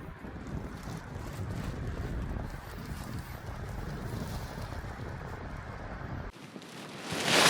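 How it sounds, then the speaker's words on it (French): Wind blows steadily outdoors, a continuous rough rush buffeting the microphone, with a brief lull near the end before a fresh strong gust. "Le vent monte, j'espère qu'on va pouvoir aller à l'eau."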